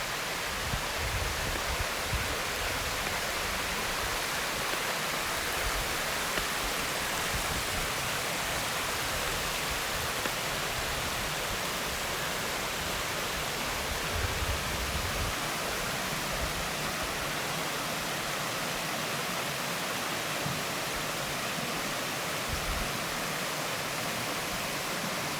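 Nos waterfall, one of the Polkovnichyi waterfalls, pours in a steady, dense roar of rushing water, broad and unbroken throughout with no voices.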